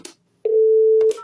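A French telephone line gives a steady, loud busy tone for a saturated service, one continuous beep of about two-thirds of a second, with a short click and brief noise on either side.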